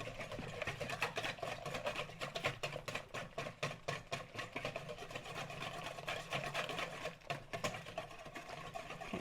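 A whisk beating lemon curd mousse mixture in a bowl: a steady, rapid clicking and swishing rhythm that runs continuously, fairly quiet and close.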